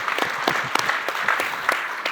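Brief round of applause from a seated audience at an investing talk, a quick burst of mixed claps that holds steady for a couple of seconds, moderately close and without speech.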